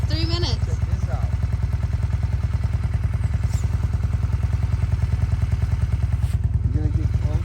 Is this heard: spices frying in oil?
no